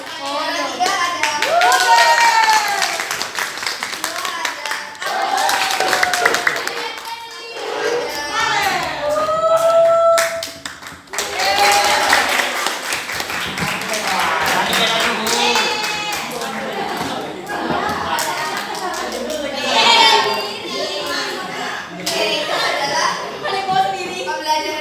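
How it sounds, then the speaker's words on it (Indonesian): Loud, sustained clapping from a class celebrating the winners of a physics lesson quiz, with children's voices and chatter mixed in over the clapping throughout. "Siapin tepuk tangan yang keras untuk juara kita."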